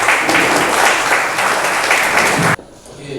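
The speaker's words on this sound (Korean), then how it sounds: "인다 안동이란 제하의 멋진 강연 큰 박수로 초청해 듣겠습니다." An audience applauds steadily to welcome a keynote speaker at an Andong forum and new-member reception, a dense wash of clapping that stops abruptly near the end, leaving a quiet room.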